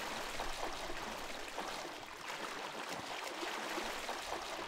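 A small river in the Minetest video game, a steady, even rush of flowing water filling the whole stretch like a continuous stream, with no speech over it.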